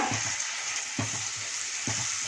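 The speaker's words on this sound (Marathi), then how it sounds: "यामध्ये आता टोमॅटो काजूची पेस्ट घालूया." Tomato and cashew paste sizzles in hot oil for a kaju masala curry, a constant frying hiss broken by about three rhythmic stirring strokes, with no voices.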